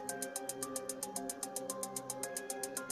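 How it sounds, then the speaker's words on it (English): Hi-hats in an amapiano beat built in FL Studio Mobile, ticking in a fast steady run of bright, crisp hits over a soft sustained pad and tonal layers, with no voices. "My next instruments are the hi-hats,"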